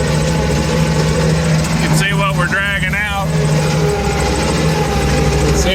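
A small AGT Industrial KRW23 end loader engine runs hot after hours of work, a steady, loud, close mechanical drone with a regular pulsing hum while someone talks over it.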